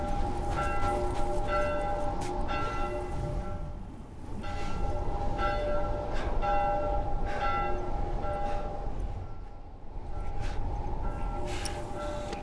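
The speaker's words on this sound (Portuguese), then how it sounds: "Sininho chato, hein?" A bell rings repeatedly in The Last of Us, steady tolling strikes laid over a dense, loud wash of ambient game noise, with no voices in the clip.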